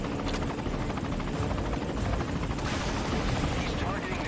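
A helicopter in Metal Gear Solid V: Ground Zeroes flies close by, its loud, continuous rotor roar filling the scene, mixed with bursts of gunfire and faint talk.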